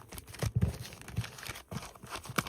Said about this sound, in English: And now we shuffle.